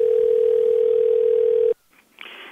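A steady telephone dial tone hums loud and unbroken while calling back, then cuts off abruptly, followed by a faint click and low line noise.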